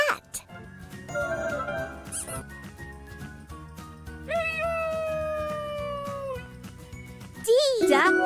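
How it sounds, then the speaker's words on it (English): A cartoon cat meows in a preschool alphabet lesson, rising and falling cries between bursts of music and cheerful child-voiced narration. "C is for cat."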